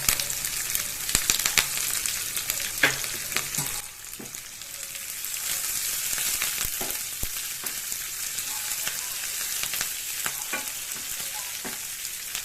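Green chillies, curry leaves and mint frying in hot oil in a pan give a loud, continuous sizzle, broken by frequent scraping clicks of a spoon stirring throughout.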